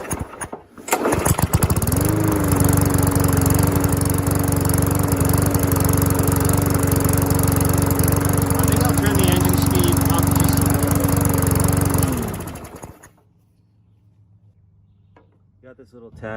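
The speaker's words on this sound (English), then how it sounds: "I think it'll run just fine." An MTD walk-behind lawnmower engine runs loud and steady for about ten seconds, then cuts out, leaving quiet background.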